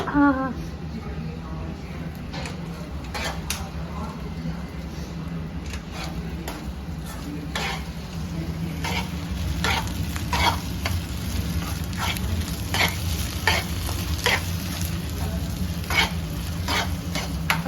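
A spoon stirs fish curry frying in a pan, with ginger paste among the ingredients, giving a steady sizzle and repeated scraping strokes throughout at close range.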